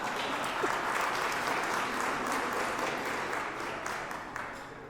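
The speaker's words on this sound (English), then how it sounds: "A little round of applause for Bridget's birthday" Steady applause from a wedding crowd celebrating a birthday, dense clapping that stays loud and even for about five seconds, with a faint voice or two mixed in.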